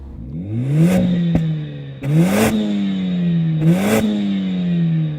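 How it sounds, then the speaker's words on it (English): Mercedes-AMG A45 S four-cylinder engine starts with a crank, then revs up three times, loud and close, each rev rising and settling back to idle. "Let's see if a 4-cylinder engine sounds better. Go on, start the Mercedes."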